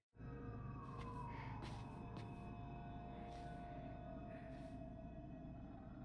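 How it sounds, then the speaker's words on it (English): A wailing emergency siren in the Silent Hill f video game drones continuously with a slowly falling pitch, heard at moderate distance under eerie ambient sounds. "I've been hearing sirens this whole time, like police sirens."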